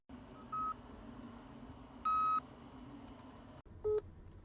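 A phone dialing a call: a few short keypad tone beeps, one longer, spaced apart over steady low background rumble, with a brief dropout before the last tone.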